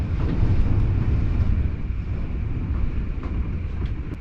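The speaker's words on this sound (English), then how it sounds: "It's blowing at 20 miles an hour right now. There's a good gust right there." Loud, strong wind of about 20 miles an hour roars and buffets the microphone continuously in Desert Hot Springs, a heavy gusting rush that swells early on and stays intense throughout.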